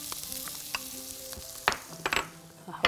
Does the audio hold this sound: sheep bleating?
no